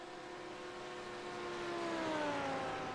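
5.2 litre V10 race cars lap the Spa-Francorchamps circuit during a 12-hour endurance race, heard as faint, distant engine notes whose pitch slides downward as revs drop.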